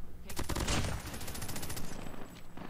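Rapid automatic gunfire from Call of Duty Mobile, a dense burst of shots in a long run and then a lighter, more scattered spread of shots, loud and close throughout.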